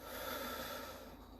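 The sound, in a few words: deep breath in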